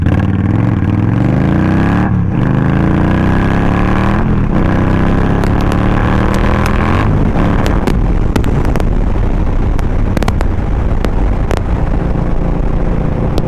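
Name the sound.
2023 Indian Scout Rogue motorcycle accelerating from 0 to 60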